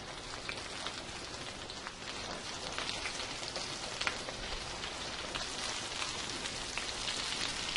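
Thick scallops sautéing in a hot pan for coquilles St. Jacques, a steady, faint, dense crackling sizzle that carries on evenly throughout with no voices.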